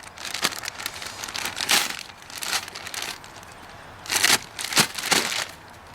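A plastic bag holding trap screens crinkles and rustles close by as it is picked up and handled, the crackling coming in irregular bursts with quieter gaps between.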